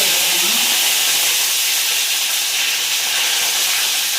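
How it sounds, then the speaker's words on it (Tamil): Fennel seeds and spices hit well-heated oil, raising a loud, dense, continuous sizzling hiss that stays steady from start to end, close up and without any voices. "அங்கே எண்ணெய் நல்லா காஞ்சிருச்சு அதுக்கப்புறம் சோம்பு கொஞ்சமாக"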